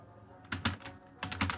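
Keys clatter on a computer keyboard while typing in Microsoft Word, two short bursts of quick close taps separated by a brief pause.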